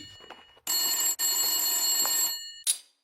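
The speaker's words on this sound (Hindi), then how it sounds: "तभी फोन की घंटी बजी।" A bell telephone rings in two long bursts with a brief gap between, loud and close, followed by a short clatter.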